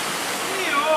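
At Aquatica San Antonio water park, a big tipping bucket dumps water over a play structure. The water makes a loud, continuous rushing splash that swells toward the end of the brief moment.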